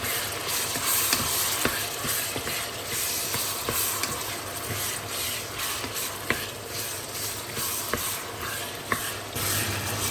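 Onions tossed into hot oil with beef for goulash, giving a steady, close sizzle and hiss with occasional light taps and stirring, with no voice over it.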